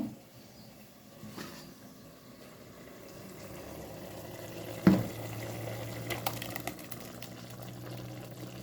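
Water is poured into a pot of mushroom curry with coconut, a faint liquid trickle and splash that rises after a soft knock midway and continues quietly to the end.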